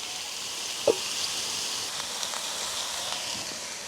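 Leeks and cardamom sizzle steadily as they sauté in a pan during a village home cooking session, a continuous mid-volume fry hiss with a brief clink near the start and no talking.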